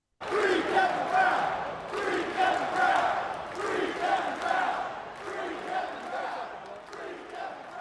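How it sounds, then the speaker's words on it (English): A large crowd of Baltimore Orioles fans at a baseball game chants in unison, a loud rhythmic phrase repeated over and over with a roaring stadium wash beneath it. "that is chants of Free Kevin Brown, the play-by-play voice of the Orioles"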